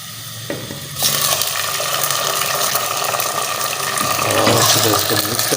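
Chicken hits a pan of browned onions with a sudden loud sizzle that swells into a steady, close frying hiss with stirring scrapes, which grows louder toward the end.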